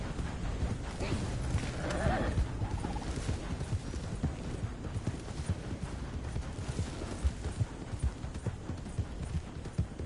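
In a video game, horse hooves clip-clop in a steady, close, continuous rhythm, with a brief voice partway through.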